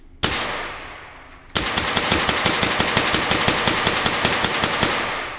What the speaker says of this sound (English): There's just something so satisfying about shooting these new sausage guys.